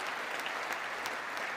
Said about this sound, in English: applause is confusing him